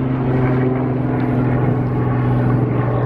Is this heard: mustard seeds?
no